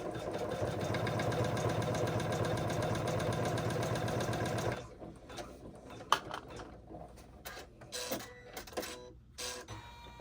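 An embroidery machine stitching with its presser foot moving runs as a steady, fast mechanical chatter for about five seconds. It then stops, leaving quieter handling noises and a sharp click, all close by, with no voices.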